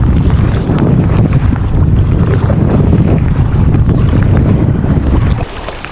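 Strong wind roars steadily across the microphone while kayaking on open water, a loud continuous buffeting with water noise beneath, easing near the end.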